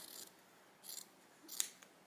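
Scissors snip through quilt binding fabric in a quiet room, a few short crisp cuts spaced apart, faint and close, with no talking.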